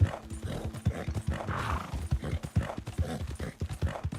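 Galloping horse hooves in the video game Red Dead Online, with a rhythmic, close, fairly loud drumming of hoofbeats throughout and a brief whinny.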